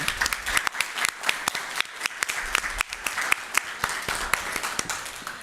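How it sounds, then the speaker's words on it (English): An audience at a city council meeting applauds the mayor with brisk, continuous clapping throughout, moderately loud and fairly close, with no break in the sound. "Can we have a round of applause?"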